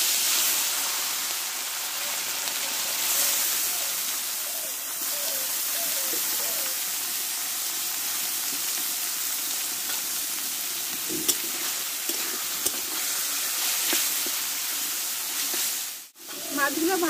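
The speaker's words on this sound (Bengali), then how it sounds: "মাছগুলো ভাজা হতে থাক," Small fish frying in hot white oil in a pan, a dense steady sizzle and hiss that runs throughout, with a few light clicks and a brief handling thump near the end.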